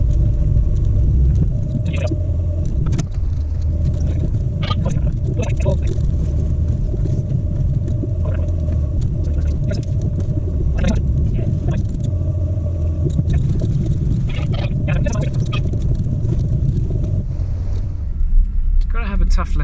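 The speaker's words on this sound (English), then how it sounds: "mud, water, gravel. Oh yes, we are off-roading." An off-road Peugeot 306 rumbles through mud, water and gravel, its engine droning steadily with splashes and knocks, wind buffeting the microphone throughout; near the end the engine note drops away.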